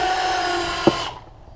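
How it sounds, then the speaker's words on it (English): A power drill bores a hole through the base of a metal paint can, a loud close whirring whine with a sharp bite partway before the motor cuts off and spins down. "I'm going to need to drill a hole so I can fit this straw through the base."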